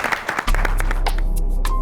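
A studio audience bursts into loud, sustained applause after a short stretch of scattered clapping, the dense clapping continuing to the end.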